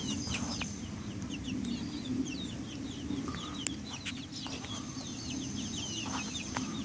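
Chickens cluck and chatter inside a coop, with scattered short calls over a steady low background rumble, fairly quiet and moderately distant, with no talking.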